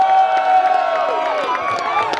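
A crowd cheers and whoops for Chargers players at a Los Angeles draft fan event, a dense, loud swell of many voices that carries steadily throughout, with some scattered clapping.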